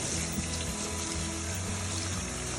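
Tap water runs steadily over Taiwanese spinach being rinsed in a sink, a dense continuous splashing rush, close and loud, with no one talking.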